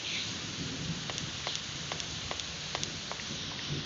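Steady rain pours down in a continuous hiss, with scattered sharper drops or taps cutting through at irregular moments and no voices over it.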